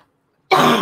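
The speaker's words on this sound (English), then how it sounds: "Excuse me, guys, for coughing." A single harsh cough bursts out close and loud during a coin auction, after a moment of near silence.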